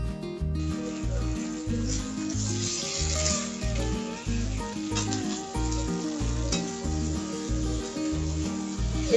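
Potatoes tipped into hot spiced oil for Bengali aloo dum, crackling and sizzling continuously beneath a loud, rhythmic background music track.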